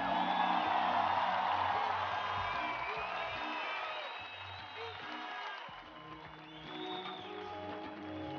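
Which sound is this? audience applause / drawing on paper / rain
audience applause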